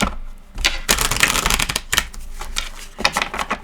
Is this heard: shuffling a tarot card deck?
yes